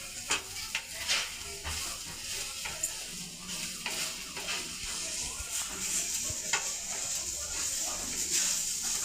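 Okra stir-fried in a pan with millet flour and roasted gram flour, giving a steady soft sizzle with scraping stir strokes and light clinks of the utensil against the pan.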